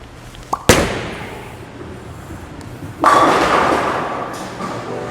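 A 900 Global Viking bowling ball lands on the lane with a sharp thud, then rolls with a low rumble before it crashes into the pins in a loud burst that slowly fades out.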